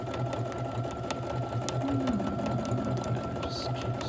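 A home sewing machine stitches steadily during free motion quilting, its needle pulsing in a fast even rhythm, close and loud, with no talking.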